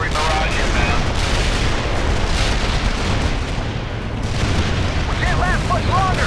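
Heavy artillery barrage in the war game World in Conflict, dense rumbling booms and blasts rolling one into another, loud and continuous, with faint voices and whistling effects in the mix.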